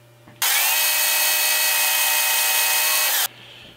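A machine tool drills a hole into a warmed metal block, a loud steady whine running unbroken for about three seconds after a quiet start, then cutting off abruptly.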